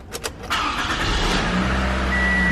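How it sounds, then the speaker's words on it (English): A 2012–2017 Toyota Camry (XV50) engine cranks briefly, then catches and settles into a steady idle after a camshaft position sensor replacement, heard close and clear with no talking. "Go ahead, start it a couple times."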